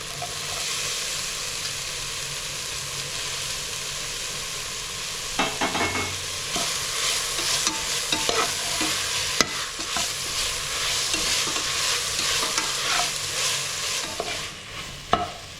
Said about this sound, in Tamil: எல்லாமே நல்லா வதங்கிருச்சு புதினா கொத்தமல்லி தலையோட பச்சை வாசனையும் போயிடுச்சு